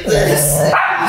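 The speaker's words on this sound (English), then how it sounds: "Remy, why are you growling?" A dog growls in a long, steady low rumble lasting most of the moment, close and fairly loud, with a person's voice mixed in around it.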